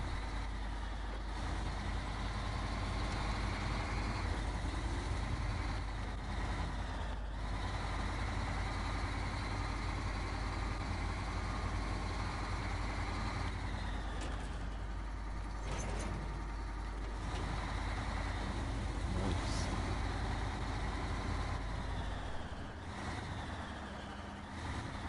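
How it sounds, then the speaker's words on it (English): A Kenworth truck engine in the off-road driving game SnowRunner drones at a steady idle-like rumble, loud and continuous, with faint mechanical shifts and brief high beeps over it and no voices. "that Kenworth is still running"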